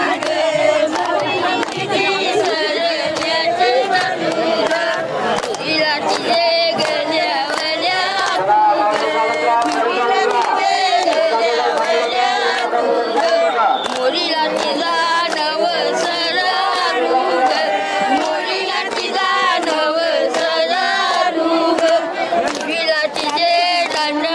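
A large, jubilant crowd of pilgrims on the Ashadhi Ekadashi wari, with many voices singing and chanting together in a dense, sustained, energetic mass.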